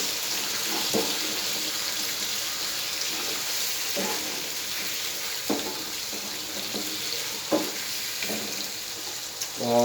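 Daikon radish pieces frying in a pan: a steady broadband sizzle runs throughout, moderately quiet, with occasional soft clinks and stirring knocks punctuating it, no talking.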